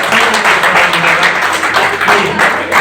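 Audience at a Marwari Yuva Manch blood donation camp and talent felicitation ceremony clapping steadily for standing guardians, a dense, continuous wash of hand claps throughout.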